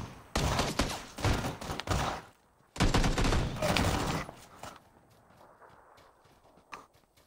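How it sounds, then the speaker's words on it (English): Bursts of gunfire from an enemy player in PUBG on Xbox, two loud volleys of rapid shots separated by a short pause, then fading to quieter scattered sounds. "And now his teammate's shooting at me"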